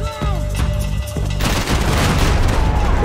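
Heavy gunfire in the Max Payne 3 video game: a loud burst of shots with booming impacts, then a dense, continuous barrage of rapid fire and explosions that fills the rest of the moment.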